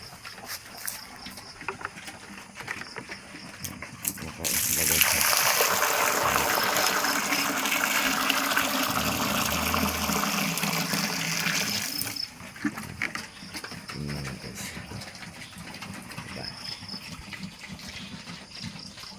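Water poured out for a pig, a loud rushing gush that starts abruptly and runs for several seconds before stopping, with quieter handling noises around it.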